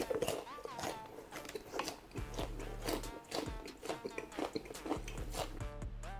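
Someone is chewing crunchy fried Korean food close to the mic, giving a quick run of loud crackling bites and wet crunches throughout, with talk and background sound underneath.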